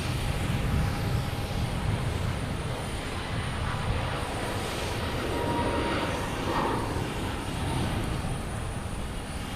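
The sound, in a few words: jet airliners at Logan Airport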